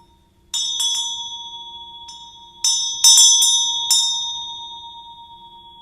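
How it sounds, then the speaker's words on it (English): A vajra bell rung during a Green Tara puja, struck about six times in uneven succession, each bright metallic tone shimmering and decaying slowly into the next, clear and close with no voices. "Vajra bell of Tara's love"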